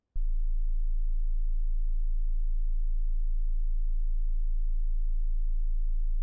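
A steady, very low 27.5 Hz sine test tone, the lowest A, starts abruptly after a brief click and holds at constant loudness throughout, heard alone with no voices.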